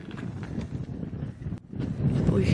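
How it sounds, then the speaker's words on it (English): Wind gusts faintly across bleak, barren Dunnet Head, the most northerly point of mainland Britain, rumbling low against the microphone in uneven swells that grow stronger toward the end. Voices murmur faintly beneath it. "All you can hear is like the wind."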